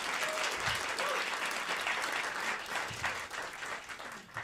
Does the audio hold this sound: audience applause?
yes